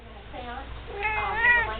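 A cat meows close by in a couple of drawn-out, rising and falling calls, while a person's voice speaks and coos alongside it.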